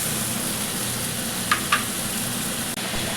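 Tomato juice hits a hot pan of spiced juices for a Bengali bhetki fish curry with potato and cauliflower, giving a steady close hiss of sizzling with two brief splashy bursts midway and no talking.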